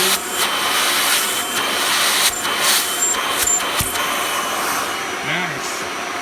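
A Kirby Ultimate G Diamond Edition upright vacuum cleaner runs with a steady, loud broadband whoosh of motor and suction, with a few brief clunks and shifts in tone partway through.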